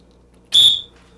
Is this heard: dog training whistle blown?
yes